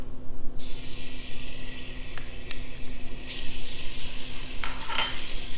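Two cloves of fresh garlic drop into hot sesame and olive oil, bursting into a loud, bright sizzle that keeps hissing steadily with a few stirring clicks, close up and without talk.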